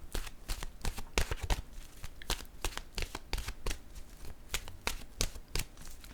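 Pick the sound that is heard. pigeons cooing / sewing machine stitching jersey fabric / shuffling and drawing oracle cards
shuffling and drawing oracle cards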